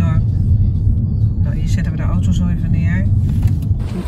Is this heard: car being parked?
yes